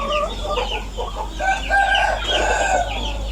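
Barred-wing chicken on a farm clucking and calling in a string of short, close vocalizations over a low steady hum, no talk.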